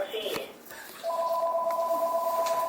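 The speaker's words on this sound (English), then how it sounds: "we got a phone ring in here" A telephone rings indoors with a steady, sustained electronic two-tone tone that starts about a second in and continues to the end, fairly loud, following some faint background sounds.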